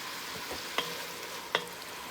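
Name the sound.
gator meat browning in a pot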